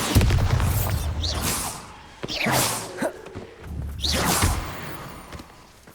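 A Bombarda blast spell cast in Hogwarts Legacy, heard as several sharp whooshing bursts with low booms spread across a few seconds, each swelling and fading in turn.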